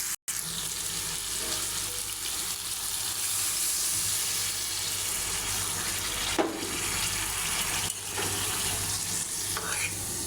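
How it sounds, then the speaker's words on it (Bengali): Water is poured into a pan of frying tilapia and bottle gourd, giving a steady hiss and bubbling sizzle that persists throughout with a few brief clatters, close and moderately loud. "এখন দিয়ে দিব পানি।"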